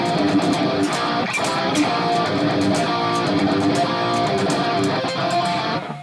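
Aggressive distorted electric guitar playing the intro lick of a song, a fast driving riff with steady picked rhythm, loud and close throughout.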